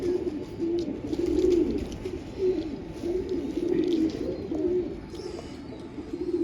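Soft, repeated cooing of a small female pigeon in low rolling phrases, several coos in a row with brief pauses, fairly close and steady, no talking.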